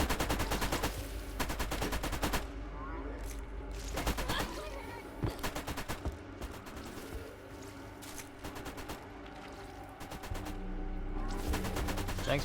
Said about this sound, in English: Oh, but these turrets will help.